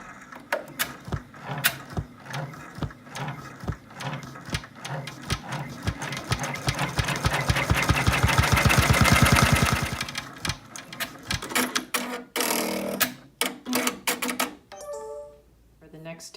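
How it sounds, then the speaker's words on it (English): An embroidery machine triple-stitches flasher vinyl onto tearaway stabilizer, a fast rhythmic mechanical chatter of needle strokes that speeds into a dense whir midway, then slows to separate clicks, with a voice talking over parts. "stitch out step 2 on the stitch map to triple stitch this flasher vinyl to the tearaway"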